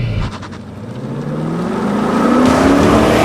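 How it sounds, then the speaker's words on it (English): A Ford Mustang and a Chevy Corvette launch side by side in a drag race, engines roaring up in a rising rev that climbs steadily and grows louder, heard close with no talking. "Perfect launch in the Corvette."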